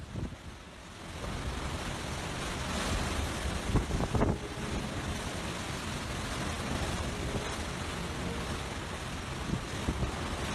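Hurricane Maria's sustained winds of at least 100 miles an hour with driving rain, a loud, continuous roar of wind buffeting the microphone and blowing water, rising slightly in gusts throughout.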